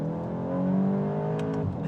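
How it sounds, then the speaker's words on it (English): A 2025 VW Golf GTI Mk8.5 engine and exhaust rev loudly and steadily from inside the cabin, the pitch climbing slightly before easing off near the end, with no talking. "The exhaust sounds a lot better than I remember as well."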